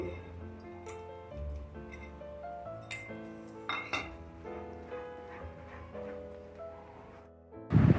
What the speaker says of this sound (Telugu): జీడిపప్పు బాదం పప్పు దోసపప్పు ఇవన్నీ వేసుకొని బాగా కలుపుకోవాలి